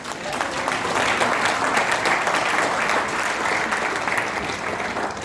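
A hall audience at a Jivan Vidya talk on life and marriage claps in a steady, dense roar of many hands that holds for about five seconds without a break.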